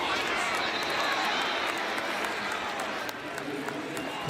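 A crowd at an Eagles vs Patriots NFL preseason game cheers in a broad, sustained roar. It fills the stadium with scattered claps and shouts, steady for several seconds and dipping slightly near the end.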